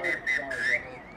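A referee's whistle blows for half-time at a mixed-division touch football grand final, sounding as three clear shrill blasts, the last one longest, over faint crowd background.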